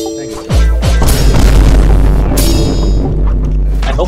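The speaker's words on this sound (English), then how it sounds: "Plates smashing into the floor and then left." Plates smash onto the floor in a video game, a loud heavy crash that starts with a boom and then rings out in a long, dense clatter of breaking pieces, close and with no talk over it.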